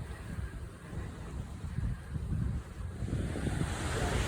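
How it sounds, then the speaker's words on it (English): Steady broad rushing roar of Wailua Falls feeding the Wailua River, continuous and unbroken, with wind buffeting the microphone and the water noise swelling slightly louder toward the end. "And this is the beautiful Wailua Falls, which feeds into the Wailua River."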